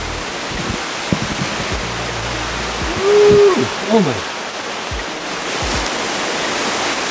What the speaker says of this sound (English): Oh, hey, look at the waterfall.